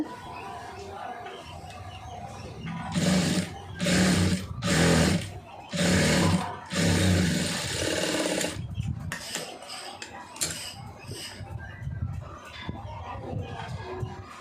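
A sewing machine stitches a strip for a star neck design in four or five quick, close bursts with short pauses between them. Quieter handling noise and a voice follow.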